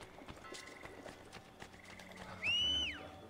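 A horse in Assassin's Creed Brotherhood clops its hooves at a slow pace, then gives a loud, close, rising and falling whinny.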